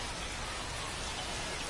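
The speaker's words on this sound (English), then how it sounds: "We're coming right up against it with the way this rain is coming down" Steady, dense rain pours down in a baseball video game, an even hiss with no pauses or distinct drops, and no voices.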